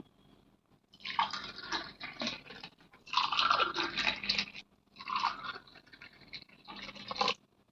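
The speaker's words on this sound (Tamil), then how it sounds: "நல்லா இப்படி மிக்ஸ் பண்ணிக்கோங்க ஊற்றிக்கலாம்" Buttermilk being mixed and poured, wet sloshing and splashing in three or four separate bursts with brief quiet gaps between them, close and fairly quiet with no talking.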